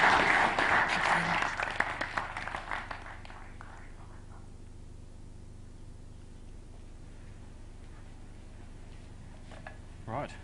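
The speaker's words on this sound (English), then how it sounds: "So, vote on the poll and give a round of applause to Jamie Marshall-Roberts." An audience applauds at an evening talk on robotics and automation, a burst of clapping up close that fades away over a few seconds into quiet room tone, with a faint rustle near the end.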